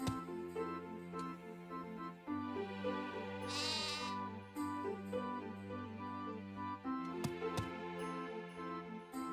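Sheep bleating in the video game Harvest Moon: Animal Parade, a few short bleats heard over looping in-game background music with a steady tonal melody and a brief chime midway.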